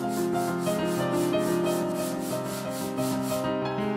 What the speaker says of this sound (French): je vais donner un bon petit coup de ponçage